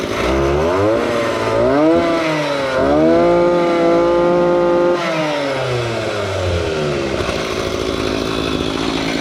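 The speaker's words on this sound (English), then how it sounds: "I'll rev it up, but we'll listen to it for a second" A Zenoah G43 engine on a friction drive bike revs up close and loud, its whining pitch climbing and falling through several throttle sweeps before settling into a rougher idle, with no talking.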